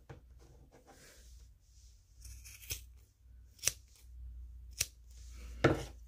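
Scissors trimming the yarn ends of a handmade tassel, with a few sharp separate snips spaced over several seconds against a quiet background.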